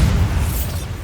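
A Bombarda spell blast in Hogwarts Legacy, one loud, close, booming explosion rumbling through the whole short moment, heavy in the low end with no voices.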